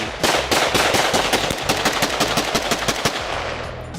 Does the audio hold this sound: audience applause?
no